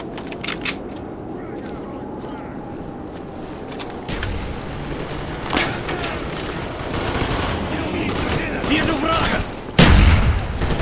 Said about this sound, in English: Sentry gun ready.